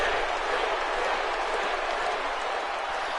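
Video game crowd cheering for Sting during a WWE 2K18 wrestling match, a steady, dense roar of many voices that holds evenly throughout without a break.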